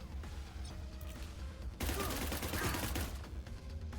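SMG fire in the tactical game Cyber Knights: Flashpoint sounds as a dense, rapid burst of shots that starts abruptly partway through and holds at a fairly low level over a game background.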